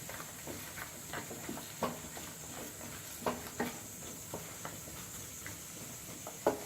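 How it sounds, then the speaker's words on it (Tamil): Ginger and garlic sautéing in a pan for paneer butter masala, a soft continuous sizzle broken by light scraping stirs and occasional sharper clicks of a spoon, close and unaccompanied by talk. "அது ஒரு நிமிஷம் வதங்கட்டும்"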